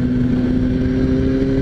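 A motorcycle rides along a road with a steady, close engine drone that holds an even pitch throughout, with no voices.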